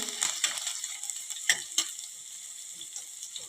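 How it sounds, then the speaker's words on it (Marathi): Oil sizzles with a bright hiss as cumin and garlic fry, punctuated by a few soft scrapes from stirring, with no talking. "जिरे आणि लसणाची छान खमंग फोडणी करून घ्यायची आहे"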